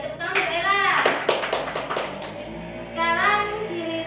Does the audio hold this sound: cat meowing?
no